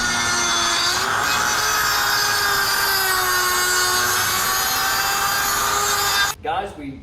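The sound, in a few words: Dremel grinding bit grinding soft aluminum edge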